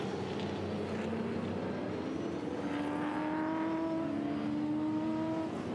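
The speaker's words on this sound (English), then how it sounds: "So car's just going past behind the back of the Lexus safety car right now." V8 touring cars at Queensland Raceway drive past behind the safety car, engines droning at moderate distance with rising and sliding tones as they pass, steady and without talk.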